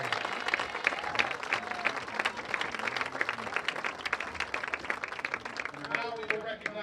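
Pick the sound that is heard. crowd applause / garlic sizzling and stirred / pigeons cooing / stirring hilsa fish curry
crowd applause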